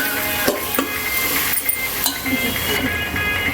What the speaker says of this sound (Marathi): आता आपण ही दोन तीन मिनटं परतून घेतली शिमला मिरची